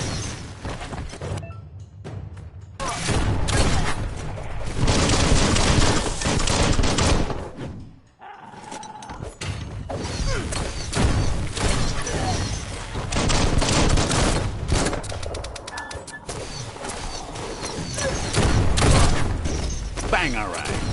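Dense gunfire bursts from the video game Biomutant, loud and sustained in rapid volleys with booms, briefly dropping out midway before resuming, with voices talking over the action.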